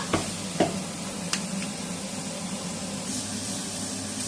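Onions frying in a pan, a steady low sizzle with a few sharp scrapes and taps of a stirring spoon, fairly quiet and close.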